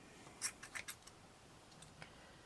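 Scissors cut a rubber band on a felt plait in a few faint, quick snips close by, followed by a couple of softer clicks in a quiet room.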